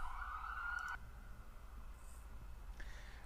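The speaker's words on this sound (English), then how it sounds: "living on a busy street corner means lots of sirens" An emergency vehicle siren wails steadily from a busy street corner for about a second, then cuts off, leaving low traffic rumble and faint background noise.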